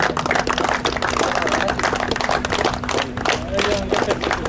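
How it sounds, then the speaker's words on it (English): At an oil sector tournament cup final ceremony, a crowd gives a cricket player a dense, continuous round of applause, clapping steady throughout with some voices and a tonal hum underneath. "a big round of applause"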